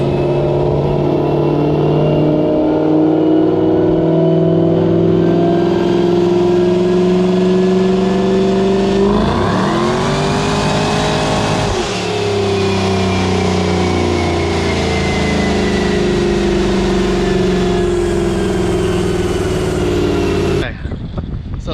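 A junkyard-sourced Ford Coyote V8 in a car roars loudly on a dyno, holding a steady high drone with a rising rev sweep midway before cutting off near the end, with voices underneath.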